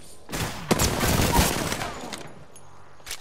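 Rapid gunfire in Apex Legends crackles in a dense, loud burst of overlapping shots, followed by a couple of sharper isolated cracks near the end.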